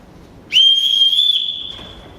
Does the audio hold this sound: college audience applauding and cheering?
no